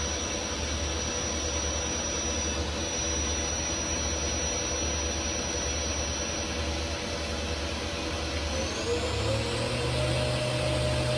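The spindle of a 2022 Milltronics TRM30HT CNC machine spins at 5,000 RPM, giving a steady, continuous mechanical whine and hum that rises slightly in pitch near the end.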